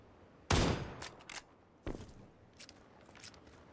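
A single gunshot in PUBG cracks sharply at a moderate distance, followed by a second fainter report and some light scattered clicks, with no one talking.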